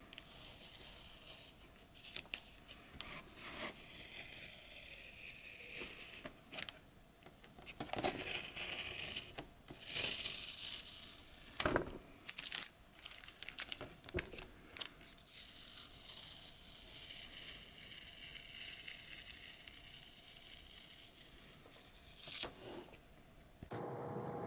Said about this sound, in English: Now I'll leave you with a little bit of ASMR tape peeling.